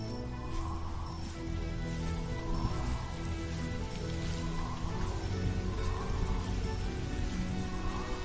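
Steady rain in the game Roblox patters on surfaces in a continuous, even hiss, with a low background hum of game ambience underneath and no talking.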